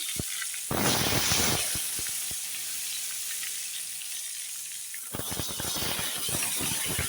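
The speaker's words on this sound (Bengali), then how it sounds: "তেল গরম হয়ে গেছে তেলে আমি বেগুনগুলো আস্তে আস্তে ছেড়ে" Eggplant pieces slipped one by one into hot oil burst into loud sizzling surges, first near the start and again toward the end. A softer hiss and a few sharp clicks fill the quieter middle.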